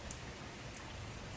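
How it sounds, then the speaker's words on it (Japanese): Steady rain falls heavily on a figure standing outdoors, a dense, even hiss with a few brighter drop splashes near the start; no talk. "再び一子の体が雨に打たれる。 降り始めた時から雨はだいぶ強くなっていた。"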